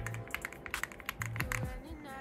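Typing on a Unity 66 mechanical keyboard, stock, producing a quick run of crisp clacky keystrokes up close, with a brief low voice partly underneath.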